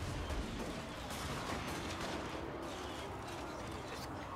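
Volleys of dwarf ranged units firing in the fantasy strategy battle Total War: Warhammer, a dense, distant crackle of massed shots over a continuous battle din.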